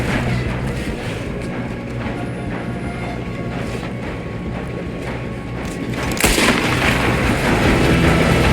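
Gunshots ring out during a train robbery in Red Dead Redemption 2, with a sharp louder burst near the end over a constant rumble of the moving train.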